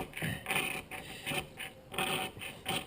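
Rhythmic, gritty scraping strokes rasp across a hard magnesium fire starter block, about six firm passes evenly spaced, close and fairly loud with no voices.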